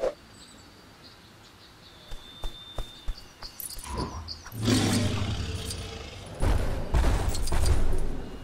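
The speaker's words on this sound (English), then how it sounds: "Tyrannosaurus Rex's roar is so loud, it can even shatter some substances." Tyrannosaurus Rex roaring in the video game Lego Jurassic World: a few sharp clicks, then a loud, deep, sustained roar in two long swells over insect-like ambience.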